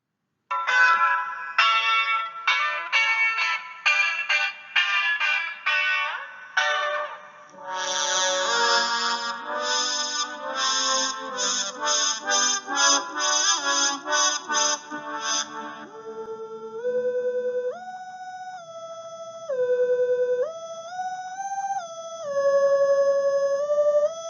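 A 1969 track played on a Moog synthesizer: a busy run of bright, bell-like electronic notes gives way to a sustained lead line that steps between pitches, with an echoing, effects-heavy tone and no voices.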